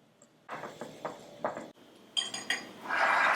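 A dry mix of all-purpose flour, baking soda, baking powder, salt, cinnamon and nutmeg is whisked in a bowl for an apple ginger walnut cake, giving close, rhythmic scraping and clinking strokes that end in a louder stretch of mixing.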